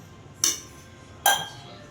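A metal ladle strikes twice against a pot while hot dough is mixed, giving two sharp, close clinks about a second apart with a short ringing decay and quiet between.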